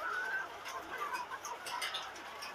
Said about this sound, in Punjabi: ਆਹ ਦੇਖ ਮੁਰਗੀ